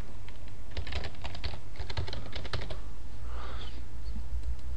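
Rapid bursts of typing on a computer keyboard while entering a password to log in to an online classifieds site, close and clear over a steady low background hum, with no voices.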